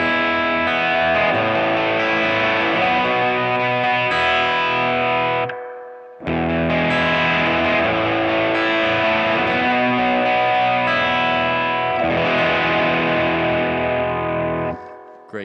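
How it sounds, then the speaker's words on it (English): A distorted electric guitar through a Line 6 POD 2.0 with a touch of reverb added, playing loud sustained chords and lines in two long phrases separated by a short pause. "We can give things a little reverb to fill them out."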